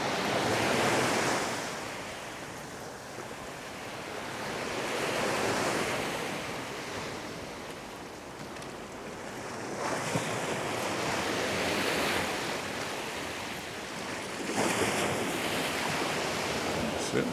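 Sea waves surge and wash onto the beach at Puerto Portals, Mallorca, in a continuous loud roar with swelling breakers every few seconds and wind buffeting the microphone.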